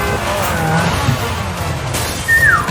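Car skidding in a Black Widow film scene: a loud engine roar with a sharp, short tire squeal near the end, heard close over a rumbling background.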